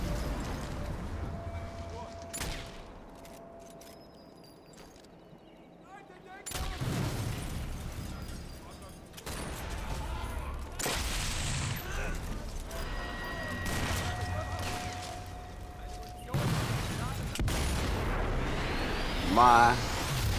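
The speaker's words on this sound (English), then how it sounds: "You want to shoot the explosives?" Explosives shot and blowing up in Sniper Elite 4, several heavy booming blasts and rumbles spread across the stretch with gunfire, some close and loud, others more distant, while people talk intermittently.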